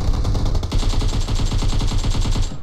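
Automatic gunfire in a battle royale video game, a rapid, evenly spaced burst of loud shots running continuously for a couple of seconds.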